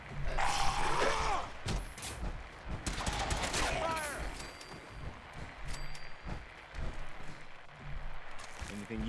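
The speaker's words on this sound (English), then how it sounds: "Opening fire." Gunfire in a Fallout 4 battle, with bursts and scattered shots over a busy mix of game sounds and mechanical clatter, while voices talk throughout.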